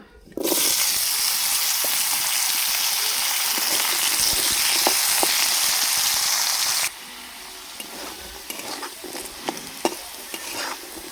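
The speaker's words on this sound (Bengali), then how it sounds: "এবার ওই কড়াইয়ের মধ্যে আবার কিছুটা সরষের তেল দিয়ে আলুগুলো ভেজে নেব।" Potatoes fry in mustard oil in a kadai with a loud, steady broadband sizzle for about seven seconds, then the hiss drops to a softer bubbling with occasional clicks of stirring.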